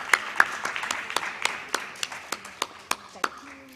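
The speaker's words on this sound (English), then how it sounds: "Let's give them a round of applause and welcome them." Scattered applause from a small audience at an anti-bullying workshop, individual claps spaced irregularly and thinning out, with faint murmuring voices near the end.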